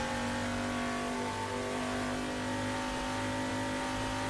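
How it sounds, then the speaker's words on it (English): A Ford Falcon race car in the Assetto Corsa game screams at high revs down the back straight, a loud, continuous, sustained engine howl with steady pitch and no talk. "just the sound of the Falcon down the back straight"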